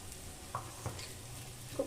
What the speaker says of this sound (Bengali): ভালো করে এবার গুলে নেব।